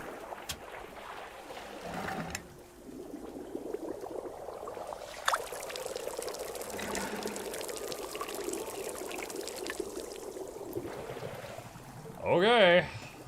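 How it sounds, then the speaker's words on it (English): Coffee is poured into a cup in a video game, a long, steady liquid stream with small splashes and a brief louder burst near the end. "Pour it on top of the first cup."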